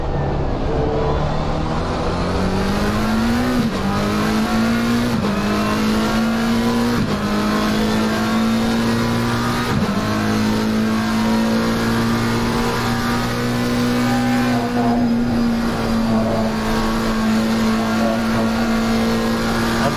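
GT3 race cars roar around the Spa Francorchamps circuit during a Caribbean GT3 Championship race, a loud continuous engine drone with rising revs and abrupt gear-shift drops, sustained and close throughout.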